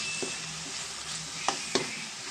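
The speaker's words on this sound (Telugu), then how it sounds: "ఇది కూడా కొంచెం ఫ్రై అయ్యేదాకా మనం కలుపుకుందాం" Crushed cumin and onion sizzle steadily in a pan of oil while cooking for a spicy fish curry, with a couple of sharp spatula taps as the mixture is stirred.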